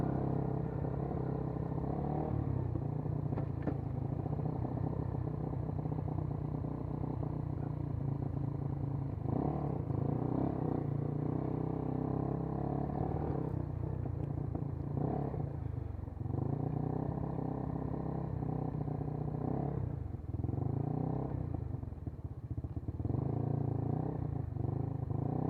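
A KYMCO K-Pipe small motorcycle ridden at wide-open throttle, a continuous buzzing engine drone with wind rush that rises and dips through gear changes, loud and close for the whole stretch.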